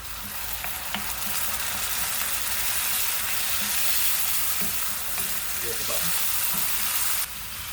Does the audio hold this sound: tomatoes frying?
yes